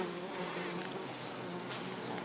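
Dense, continuous buzzing of many bees close by at a log hive, a steady droning hum with a few individual insects swelling briefly louder.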